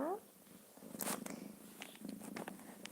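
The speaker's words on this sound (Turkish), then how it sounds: "Kedi ses, kedi mırıldaması." A cat purrs softly and steadily, close by, with a few brief clicks and rustles over the low rumble.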